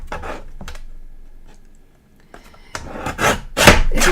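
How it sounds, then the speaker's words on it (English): A paper guillotine trimmer slices through cardstock during layered card making, giving a few short close rasping strokes and a louder cutting swipe near the end, with no talk. "Now we're getting out the guillotine again."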